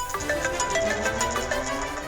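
A mobile phone ringtone plays alone, a steady repeating electronic melody with bright tonal notes pulsing in a regular rhythm, close and moderately loud.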